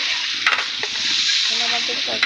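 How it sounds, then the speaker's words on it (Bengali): Onions frying in hot oil for an iftar meal, a loud continuous close sizzle with occasional clacks and scrapes of stirring, and a brief murmur of voices near the end. "কিন্তু পেঁয়াজগুলা নেড়ে দিচ্ছেন"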